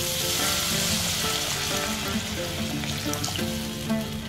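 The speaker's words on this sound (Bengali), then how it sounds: "এবারে আমি দিয়ে দিচ্ছি হচ্ছে জল" Frying chilli and tomato for ema datshi hiss loudly in a hot pan as water goes in, a steady close sizzle with bubbling crackle throughout.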